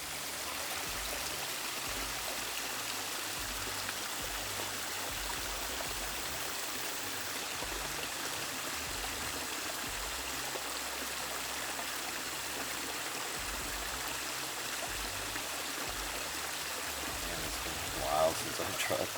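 Water flowing and trickling in a backyard koi pond beside a statue, a steady close splashing stream that continues throughout at moderate volume, with no clear voices.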